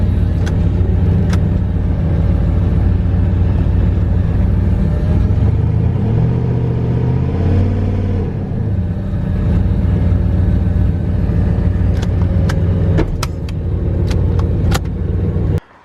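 A turbocharged LS-swapped Mazda RX-7 idles loudly and lopes in a garage, its engine note rising and dipping briefly as it eases backward, then carrying on at a steady close rumble with a few sharp clicks near the end.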